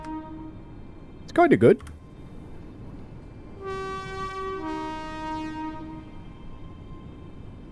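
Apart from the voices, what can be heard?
Indian Railways train horn in video game Train Sim World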